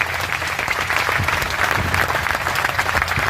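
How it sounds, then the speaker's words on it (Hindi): A crowd of clerks at an outdoor protest rally applauds, dense sustained clapping close and loud, with scattered voices and cheers mixed into the continuous applause. "तो एक बार जरूर आप अपने लिए तालियां बजाओ साथियों"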